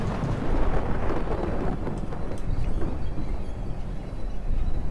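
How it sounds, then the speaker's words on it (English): Thunder and heavy rain in the horror game Slender: The Arrival, a loud, steady wash of downpour with a deep rumbling roll running underneath it throughout, and no voices. "There's a lot of thunder and lightning going on."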